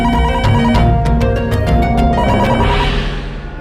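A telephone rings with an incoming call, a loud electronic ringtone with bright repeated pulses that goes on alone for several seconds in a Hindi crime drama.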